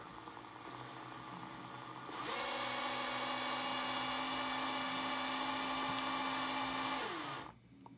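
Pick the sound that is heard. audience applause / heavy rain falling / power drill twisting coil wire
power drill twisting coil wire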